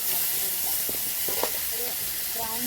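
Mustard seeds, onion and garlic sizzle in hot oil, a steady close hiss that runs the whole time beneath a voice talking over it.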